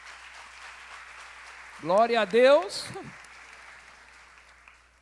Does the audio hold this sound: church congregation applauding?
yes